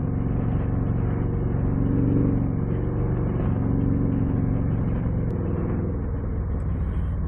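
A Harley Street Glide V-twin rumbles through a custom C3 stainless 2-1 exhaust, a dense, steady, close engine drone with slight swells and no pauses.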